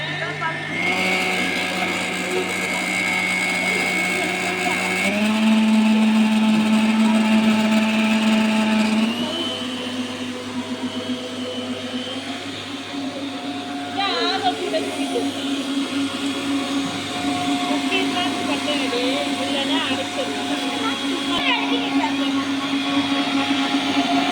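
An electric hand mixer whirs steadily while beating eggs in a kitchen, its pitch stepping up as the speed is raised, loud and continuous with a voice speaking over it.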